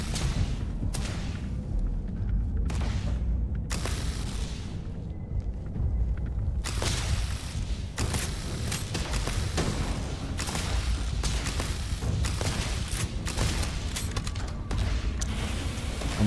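Turret gunfire in the space game Starfield, bursts of shots in broken volleys over a steady low rumble, with several sharp clusters from start to finish and brief quieter gaps between them.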